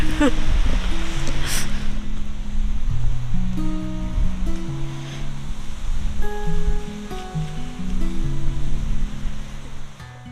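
Strong wind gusting outdoors beside a parked van in the wild, a steady loud roar of buffeting air that swells and eases throughout, with faint tonal hums underneath.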